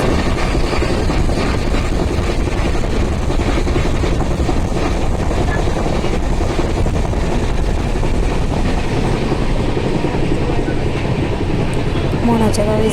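Loud, constant rumble of an Intercity Express train moving along the rails between Pune and Solapur, with a steady rattling clatter that continues throughout and no clear breaks.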